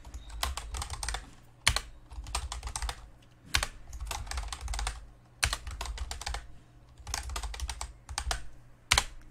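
Keys clatter on a computer keyboard while days are entered into a weekly plan board, in quick bursts of close keystrokes separated by brief pauses, with no talking.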